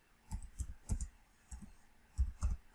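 Computer keyboard keys tapped while a value is entered in SketchUp Pro, about eight quiet clicks in uneven bursts, close and alone.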